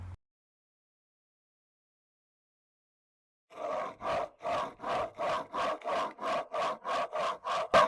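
A hand plane blade is ground back and forth on diamond plates, making about a dozen steady, even rasping strokes close by after a few seconds of silence. No voices are heard.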